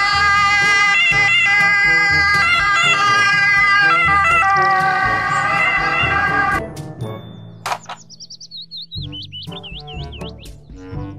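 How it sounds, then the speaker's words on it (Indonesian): A toy ambulance plays a cheerful electronic tune with chirpy bird-like tones, then a wavering siren wail rises near and loud before fading into scattered beeps. "Mobil ambulan."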